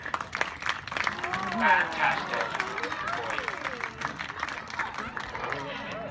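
Audience at a bird show in Woburn Safari Park giving a round of applause and cheering, a dense continuous crowd sound with lively voices and calls mixed in throughout.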